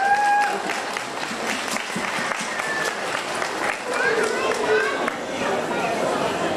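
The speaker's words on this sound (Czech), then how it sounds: "Ladies and gentlemen, a big applause and a big thank you for Mrs. Kapičková" A crowd claps steadily in sustained applause at a company open day, dense and close, with a few faint whistles and murmurs mixed in.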